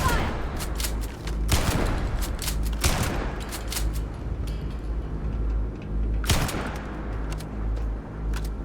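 Heavy gunfire in the Starfield video game: repeated loud bursts of shots ring out over a steady low rumble, with a few sharp volleys spaced through the fight and a brief shout in the mix.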